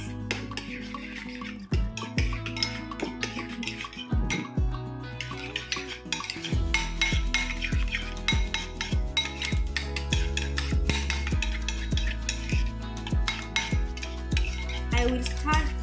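A spoon stirs chicken sandwich filling with chili in a bowl, scraping and clinking against the sides in steady repeated strokes, close and clear with no talking.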